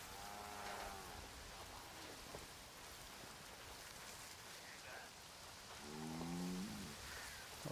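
A cow moos twice in Ghost Recon Wildlands, one low drawn-out call early and another near the end, over a constant hiss of rain on the ground in an outdoor game scene.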